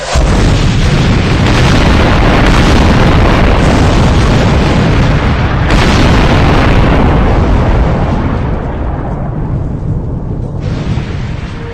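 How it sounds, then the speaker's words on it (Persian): A massive explosion near a school in Iran rumbles as a loud, sustained roar for about twelve seconds, dense low booming that stays heavy throughout and eases slightly toward the end. "صدای اون انفجاری"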